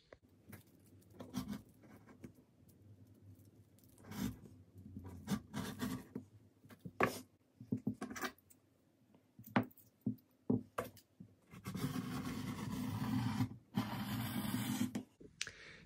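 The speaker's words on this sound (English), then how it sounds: "So I've just cut out my bodice back pieces" Scissors snip through fabric while bodice back pieces are cut out for sewing a Simplicity 9597 dress. Scattered cuts and rustling form irregular bursts that give way to a denser stretch of handling noise near the end.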